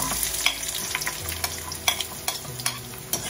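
Onions sautéing in a hot pan for a chayote and egg dish, with a steady close sizzle and scraping stir strokes throughout.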